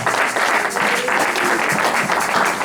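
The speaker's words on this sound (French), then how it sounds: "On applaudit le roi des rois" A church congregation applauds during a Sunday service, steady dense clapping that stays loud and continuous throughout.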